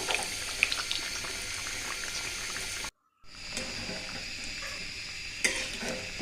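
Potato curry simmers and bubbles in a pot, giving a steady close boiling hiss with light stirring clinks, broken by a brief gap of silence before the bubbling resumes, with no talking.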